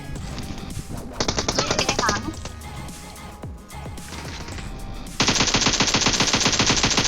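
Rapid automatic gunfire in PUBG Mobile rattles out in two dense bursts, the second louder and longer near the end, with scattered single shots between them and players' voices talking over the action.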